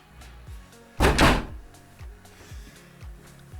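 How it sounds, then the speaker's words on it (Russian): A door is shut with one loud, close thunk, followed by light knocks and rattles. "Сейчас закрою дверь."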